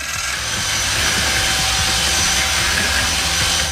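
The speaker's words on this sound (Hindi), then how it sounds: "बड़े कंस्ट्रक्शन मिक्सर का उपयोग करके हम शक्कर को अंडे के पीले जर्द के साथ मिला लेंगे।" A large construction mixer mixing sugar with egg yolks runs with a loud, steady mechanical whir and grinding rumble, unbroken throughout, with no talking.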